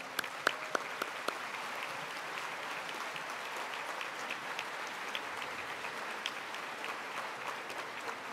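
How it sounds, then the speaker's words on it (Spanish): Sustained applause from a crowd honoring teachers at a school event, a steady wash of clapping with a few sharper claps standing out near the start. "un gran aplauso"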